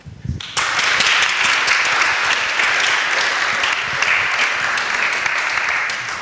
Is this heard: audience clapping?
yes